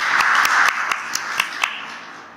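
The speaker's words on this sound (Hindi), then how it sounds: "एक बार जोरदार तालियां हो जाए कृति करने के लिए।" Applause for a participant named Kriti at a group discussion on reading and personality: a brief burst of crowd clapping that thins into a few scattered, separate claps and fades out, with no one talking.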